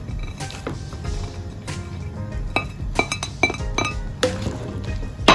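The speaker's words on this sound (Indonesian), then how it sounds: "kita tuangkan kue tiawnya ya." Kwetiau noodles tipped into a wok already holding shrimp and cabbage, giving clinks and scrapes of metal and utensils against the pan with a low cooking rumble beneath, up close.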